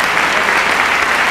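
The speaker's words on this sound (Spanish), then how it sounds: "Ovación de gala para el presidente Arzú." An audience gives a sustained ovation to President Arzú at the 1997 Príncipe de Asturias awards ceremony, dense steady applause that fills the hall without pause.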